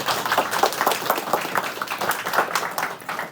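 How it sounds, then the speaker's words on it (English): An audience applauds a speaker at a TIDE Talk, steady dense clapping from a crowd lasting the whole stretch at an even, moderately loud level. "so let's give him a round of applause."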